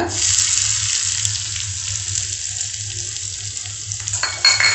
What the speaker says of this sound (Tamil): இப்போ எண்ணெய் சூடாகிட்டு அதில் கொஞ்சம் கடுகு, இப்போ கடுகு பொரிஞ்சிட்டு